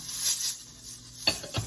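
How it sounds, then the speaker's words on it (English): Tomatoes dropped into a pot of Cuban-style oxtail stew with jalapeños, giving a steady sizzle, then a sharp close splash and stir near the end. "we're going to add our tomatoes"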